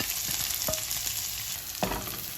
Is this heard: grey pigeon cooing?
no